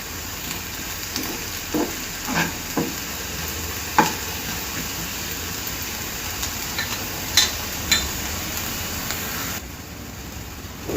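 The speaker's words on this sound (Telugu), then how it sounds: "ఇది మంచి కొంచెం కలర్ వచ్చే వరకు వీటిని వెల్లుల్లిని వేయించుకోవాలి" Garlic frying in oil until light brown for a Telugu okra-garlic dish, a steady sizzling hiss broken by several scraping stirs of a spatula, close and alone with no talking.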